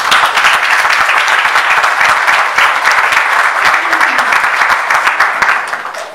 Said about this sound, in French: je souhaite que l'on applaudisse et que l'on encourage Monsieur Félix Bazin.